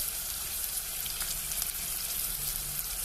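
Chopped onion and green chilies frying in a tempering for a tellagangeru leafy greens curry, giving a soft, even sizzle with faint crackles and no voices.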